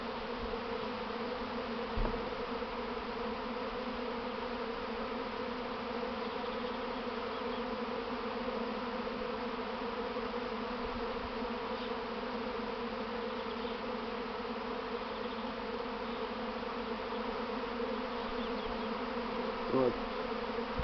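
A dense, steady hum of countless buzzing honeybees swarming out of the hive fills the air continuously, loud and unbroken, with no voices.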